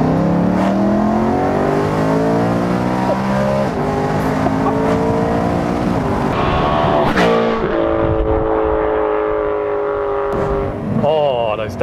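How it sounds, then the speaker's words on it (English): A loud de-catted BMW E92 M3 exhaust blips and drops through manual downshifts, its revs swinging rapidly up and down in sharp rising and falling sweeps, with voices talking over the roar. "Those downshifts."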